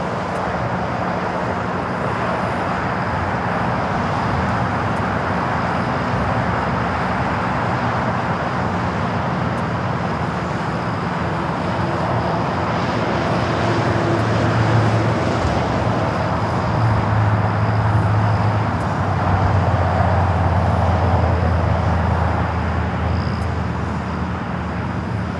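An Air New Zealand Boeing 777-300ER in all-white livery arrives at LAX from Auckland, a long, steady jet roar that builds and grows louder midway, then holds before easing slightly.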